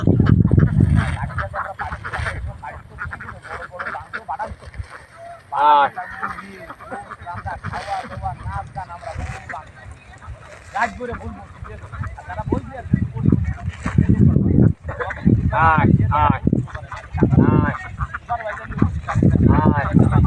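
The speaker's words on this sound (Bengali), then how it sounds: "আমার চারশো হাঁস আছে" A large flock of about four hundred ducks on a duck farm quacks and honks in loud, overlapping bursts close by, while people talk over and between the calls.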